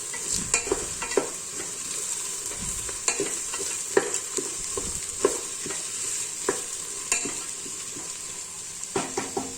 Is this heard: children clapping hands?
no